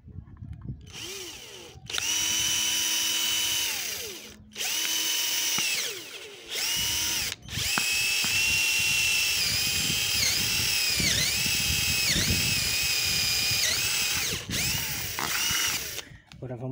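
A step drill bit bores through the lid of an electrical box for a Wi-Fi camera mount, the drill whining loud and close in several long bursts separated by brief pauses, with pitch dipping as the bit bites.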